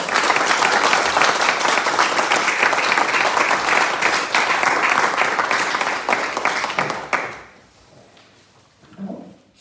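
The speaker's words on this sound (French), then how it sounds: "on peut les applaudir" A municipal council audience applauds newly elected deputy mayors, dense sustained clapping for about seven seconds that then cuts off into near silence.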